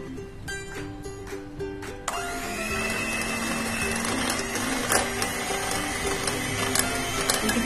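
An electric mixer whips cream in a bowl, a steady whirring drone with rattling beater clicks, close and fairly loud, starting after a couple of seconds of handling noise.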